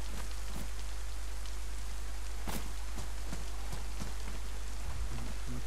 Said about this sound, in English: I'm not sure how long the rain will usually last for